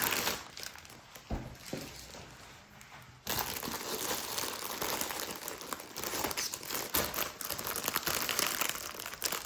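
Packaging crinkles and rustles continuously while an embroidery order is unboxed, close and fairly loud, with a brief pause near the start before the handling picks up again.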